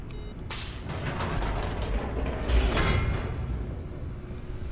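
A heavy door mechanism in The Stanley Parable, grinding and creaking with a rumbling mechanical drone that swells midway and holds steady throughout.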